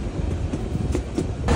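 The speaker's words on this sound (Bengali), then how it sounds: "সময় এখন 6:21 আমাদের ট্রেন এসে পৌঁছালো কাকিনা স্টেশন" The Korotoa Express rumbles along the rails with a steady broad roar and a few rhythmic clacks of the wheels, close and continuous, with no voices.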